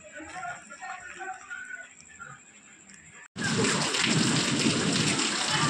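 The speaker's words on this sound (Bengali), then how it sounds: "বৃষ্টি পড়ছে" The first rain of the hot season, a thundery shower, turns from a quieter stretch with faint voices into a sudden, loud, dense roar of rain that fills the rest of the clip.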